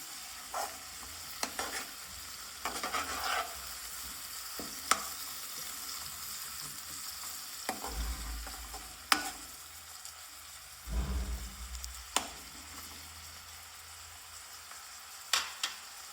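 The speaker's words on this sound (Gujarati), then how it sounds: "હવે બધું મિક્સ સારી રીતે આપણે શેકાવા દઈએ." Tomatoes and spices are stirred and roasted in a pan for a spiced yogurt tempering, giving a quiet, steady sizzle broken by sharp intermittent scrapes and clinks of the spoon against the pan, with no talk.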